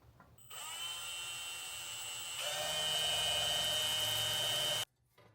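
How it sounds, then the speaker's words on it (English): A power drill bores holes in firewall covers on a bagged 1966 Chevrolet C10. It whines up close, climbs to a higher, louder pitch partway through, then cuts off abruptly. "and then I'm just going to drill out holes"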